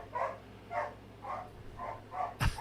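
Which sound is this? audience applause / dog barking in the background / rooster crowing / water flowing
dog barking in the background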